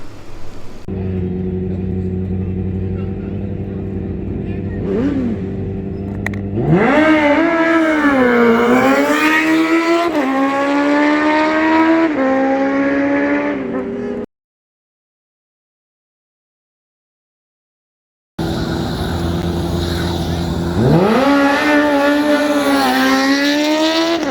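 A 2020 Suzuki GSX-R1000 sportbike launching down a drag strip, engine screaming through rapid gear changes with rising, stepping pitch, very loud and close, then cutting out before another full-throttle run.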